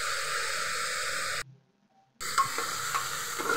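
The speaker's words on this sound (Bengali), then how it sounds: "ভালো করে নেড়ে চেড়ে দিয়ে পরিমাণ মতো দেখুন এখন লবণ যাচ্ছে" Puli pitha mixture being stirred in a hot pan as salt is added, with a steady close sizzling hiss that cuts out briefly and then resumes with light scraping.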